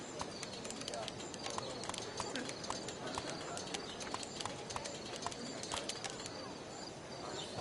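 Pigeons in the game Life Is Strange: Before the Storm, with rapid wing flapping and clattering flutters as a flock takes off, plus soft cooing behind it and a voice speaking over part of it.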